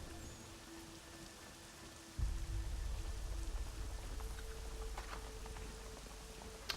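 Rain falls steadily in the game Assassin's Creed 3, a soft hiss that swells louder partway through and keeps going with a low rumble beneath, with no talking over it.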